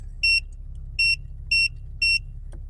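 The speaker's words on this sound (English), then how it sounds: "So if you have a check engine light come on, you can have a little alarm go off." An OBD2 heads-up display alarm sounds four short, evenly spaced high-pitched electronic beeps over a low steady rumble from the car.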